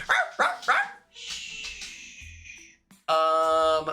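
A pet dog indoors lets out three sharp, close barks in quick succession, then a drawn-out whining whimper, ending with another loud yelp-like cry.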